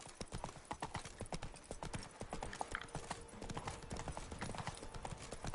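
Horse hooves clip-clop in rapid, even rhythm in The Witcher 3 video game, loud and close throughout, with a brief snort or whinny partway through.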